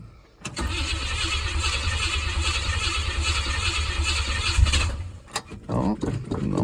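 A 1967 Buick Gran Sport engine cranks steadily for several seconds, loud and close, then catches with a burst of revving as gas is given, followed by a rough idle and sputters.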